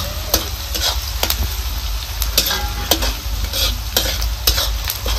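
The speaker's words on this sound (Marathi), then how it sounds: "चांगला मस्त असं लाल रंग येतोवर आपल्याला कांदा भाजायचा आहे" Chopped onion sizzles loudly in a hot pan while a spoon stirs it in repeated scraping strokes, a steady close frying hiss throughout, for a rustic gram-leaf aamti.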